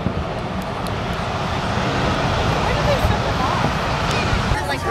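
A fixed-wing airplane drones overhead during a crowded Fourth of July evening, a steady broad roar that runs throughout, mixed with crowd babble and nearby voices.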